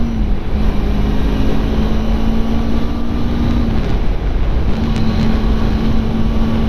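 A Kawasaki Ninja 250R motorcycle engine runs with a steady, even hum, heavily buffeted by constant wind noise, with no clear revving.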